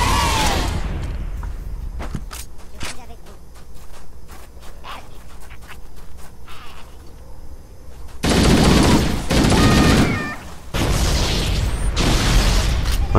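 Bursts of submachine gun fire from Halo: Combat Evolved, sharp rapid shots in scattered bursts, then louder sustained volleys with booming blasts near the end, loud and close with no talking.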